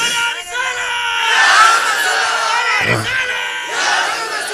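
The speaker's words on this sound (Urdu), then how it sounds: "اس طرح نعرے لگاتے ہیں جس طرح تم لگا رہے ہو" A large crowd at a Rabi ul Awal religious gathering in Sadiqabad chants slogans in loud unison, voices surging and sustained with a brief dip in the middle before swelling again.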